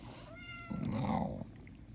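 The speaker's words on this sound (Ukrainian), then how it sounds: "Криклива кіця, вообще криклива." A house cat gives a loud, drawn-out meow that rises and then swells into a fuller, wailing call, close to the microphone, followed by quiet.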